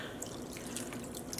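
Water poured onto yarn in a cold-process dyeing setup with dye solution and white vinegar, a steady close trickle and drip that runs unbroken through the whole moment.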